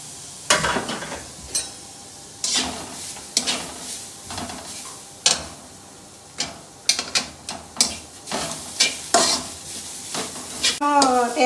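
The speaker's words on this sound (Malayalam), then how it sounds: "നന്നായി ഒന്ന് വറുത്തെടുക്കാം." Grated coconut is fried in a pan, with a soft steady sizzle under repeated scraping strokes of a spoon stirring against the metal, close and moderately quiet.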